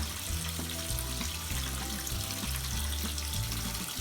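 Water runs steadily into a tub of laundry, a continuous rushing flow with a low rumbling hum underneath; no one speaks.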